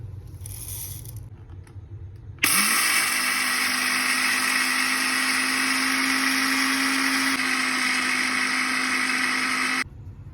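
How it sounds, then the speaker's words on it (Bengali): Electric blender grinding soaked rice to a fine powder for traditional Chittagong rice naru, a loud steady whirring roar running about seven seconds with a sharp start and stop, quieter kitchen noise on either side. "একদম মিহি করি এরা ব্লান্ডার করে লই"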